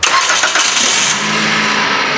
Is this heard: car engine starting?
yes